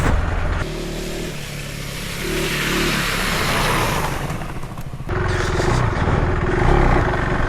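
A KTM 390 Adventure R motorcycle in off-road mode with rear ABS and traction control off revs hard on slippy rocks, its rear wheel spinning up; loud, close engine roar rising and surging, with a brief dip before climbing again.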